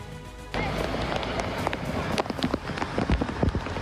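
Heavy monsoon rain pours down in Uttarakhand during cloudburst flooding, a dense, loud hiss that swells sharply after a quiet start, with scattered sharp drop impacts and splashes throughout.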